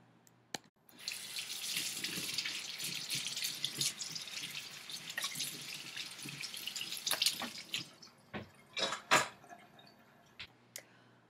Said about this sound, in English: you saw me washing a dish